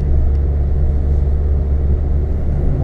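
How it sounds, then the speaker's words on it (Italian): Car engine climbing an uphill road toward Ponte di Legno in fifth gear: a steady, loud, low droning rumble that holds constant throughout, with no voices. "questa macchina si può permettere da solo anche con la quinta."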